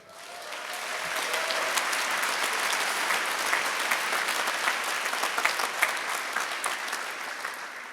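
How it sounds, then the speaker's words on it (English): Audience at a university senior celebration breaks into applause, rising quickly from near silence into a full, steady round of clapping that holds for several seconds with a few sharper individual claps standing out. "I think that does deserve a clap."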